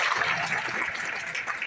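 Applause from an audience in a large hall in Mumbai at a direct-selling marketing event, a steady broadband patter of many hands clapping at moderate loudness, continuing without a break.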